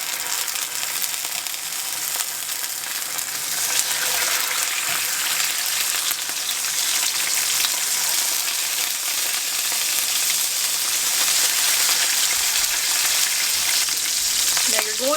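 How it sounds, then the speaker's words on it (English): A salmon fillet sears skin side down in a hot pan, a loud, continuous crackling sizzle that swells after a few seconds and holds steady, with no one talking. "Now you're going to sear this on both sides for about 3 to 4 minutes"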